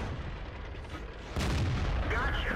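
A tank cannon fires in World of Tanks with the AMX 50 100 on the Ruinberg map, a heavy boom breaking through a continuous rumble of battle noise.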